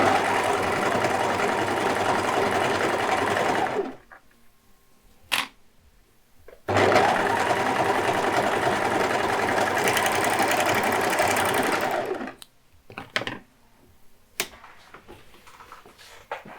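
A home sewing machine runs steadily along a seam guided by a 7.5 mm margin line, whirring continuously for several seconds, pausing, then starting again for a second long run before stopping with a few small clicks and handling noises.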